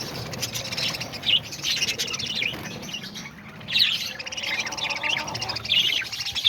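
Budgie parakeets kept indoors chirp and tweet in short bursts, several soft calls overlapping against a low background hum, close by and fairly quiet.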